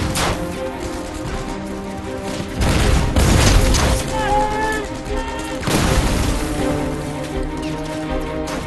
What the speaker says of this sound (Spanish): usaron granadas y disparos para forzar la rendición del búnker alemán en Hilltop